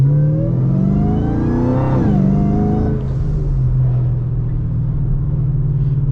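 A Chrysler 300 with a Hellephant engine revs hard from close by, its deep rumble climbing in pitch as it accelerates, then settling into a loud, sustained roar with no talk.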